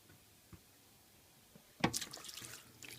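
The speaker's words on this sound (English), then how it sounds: "I open up the filter and pop the siphon into the tank and just give this a little suck on the end" Aquarium siphon hose drawing water out of a fish tank: a quiet lead-in with a couple of faint taps, then a sudden gush as the flow starts, followed by close bubbling, dripping water.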